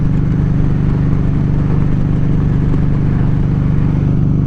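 A Kawasaki Vulcan Voyager motorcycle with Sharkroad aftermarket exhaust idles steadily with a deep, throbbing exhaust burble, close and constant throughout.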